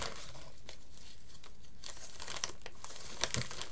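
A mail envelope is torn open by hand, close and continuous paper crinkling and rustling with a few sharper rips near the end, no talking.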